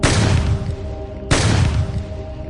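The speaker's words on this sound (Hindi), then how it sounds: "ठीक उसी वक्त नदी के उस पार से गोलियां चलने की आवाजें आती है।" Two loud, booming cartoon gunshots from across a river, each a sharp blast followed by a long rumbling decay, about a second apart.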